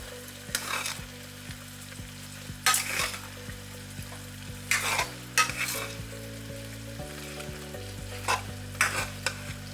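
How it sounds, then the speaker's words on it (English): Cambodian caramelized pork frying in a pan as a utensil stirs it, with repeated scraping sweeps over a steady sizzle. The stirring comes close and moderately loud in irregular strokes, with no voices. "And then I'm going to go ahead and mix this around."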